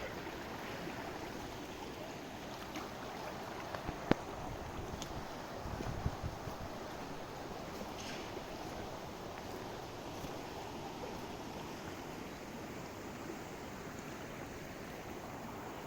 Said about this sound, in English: I love the sound of the water. This is her flow, the flow of her sacred waters into the lake.